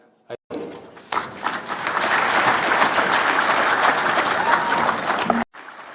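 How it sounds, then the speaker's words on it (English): Applause from a crowd at a political conference in Eldoret, beginning after a brief pause and swelling into a dense, sustained round of clapping before cutting off sharply; a voice sounds faintly underneath. "Another round of applause for our Vice Chair."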